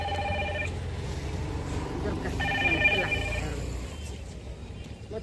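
A telephone rings in a home during a festival puja, with repeated electronic ring bursts at the start and again midway, heard under ongoing household chatter.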